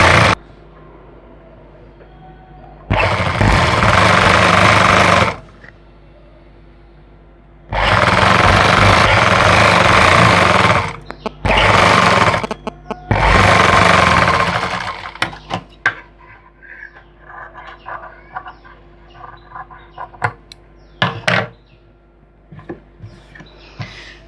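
An electric sewing machine stitching a salwar leg runs in loud, close bursts of steady rapid whirring, broken by pauses, then gives way to scattered clicks and handling of fabric.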